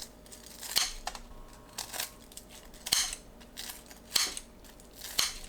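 Cooked, crispy pan-fried pork neck cut into bite-size pieces, with about six sharp cuts at irregular intervals, each a crisp crunch with a click, close and clear over quiet background noise.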